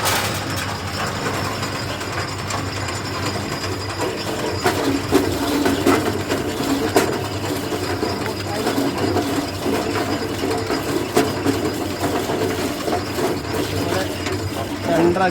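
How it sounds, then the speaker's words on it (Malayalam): An arecanut cutting and slicing machine driven by a 1 HP single-phase motor runs continuously with a steady mechanical clatter and rapid ratcheting rattle, close and fairly loud. "നമുക്ക് പഴുക്കടക്ക കട്ട് ചെയ്യുന്നത് ഒന്ന് കണ്ടു നോക്കിയാലോ."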